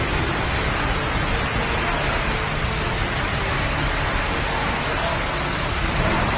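Steady, dense roar of storm wind and heavy rain, loud and unbroken throughout with no distinct gusts or voices standing out.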